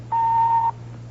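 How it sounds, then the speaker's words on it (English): An answering machine gives a single steady electronic beep, lasting about half a second, over a low constant hum. "Now, just wait for that beep"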